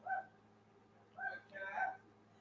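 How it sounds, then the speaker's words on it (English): A dog barks in short bursts at night, apparently at cats and a possum outside, with three fairly faint yelps spaced across a couple of seconds over a low steady background hum. "go see what she's barking at"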